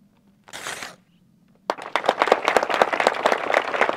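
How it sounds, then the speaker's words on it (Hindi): Brief paper tearing sounds first, then a crowd breaks into loud, sustained clapping and applause in the stone court of Raigarh Fort, the claps dense and echoing for several seconds. "अगर कागज की आवाज आप तक आए तो आप जोरदार तालियां बजाओ इस आर्किटेक्ट के लिए"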